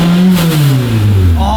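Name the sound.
car engine revving through aftermarket exhaust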